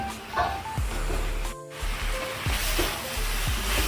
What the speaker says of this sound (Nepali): मैले चाहिँ यता भुट्दैछु।